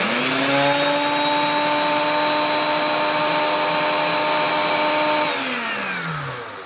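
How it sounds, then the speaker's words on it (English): A grinder whirs loudly and steadily as it grinds chia seeds, a close, sustained motor whine that holds for about five seconds, then winds down. "really quick, we're gonna grind these seeds"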